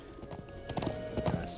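Horse hooves clip-clop at a steady walking rhythm in the video game Trails of Cold Steel, a run of close, moderately loud hoof strikes over a soft game backdrop.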